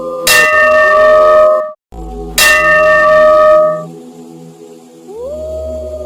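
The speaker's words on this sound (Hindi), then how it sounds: "अचानक मंदिर की घंटी अपने आप बजने लगी।" A temple bell rings on its own in a horror story effect, two loud clanging strikes with long ringing decay, the second dying away, followed by a low rising tone, with no talking.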